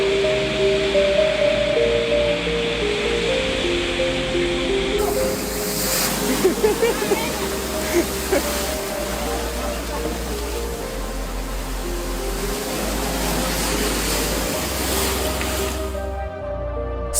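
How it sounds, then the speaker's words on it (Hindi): Waves over ten metres high strike a harbour in Spain, making a loud, broad, continuous rushing and crashing roar that swells after a quieter start, with a voice and background tones underneath. "स्पेन की इस बंदरगाह पर 10 मीटर से भी ऊंची लहरें देखने को मिली।"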